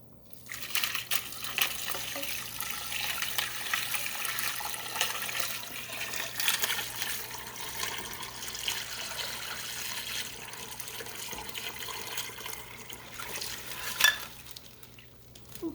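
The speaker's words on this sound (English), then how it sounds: "I'm going to pour this brine that I just showed you in here" Turkey brine pours steadily into a container for Thanksgiving, a continuous splashing liquid stream lasting most of the clip, with a louder slosh near the end and no talking.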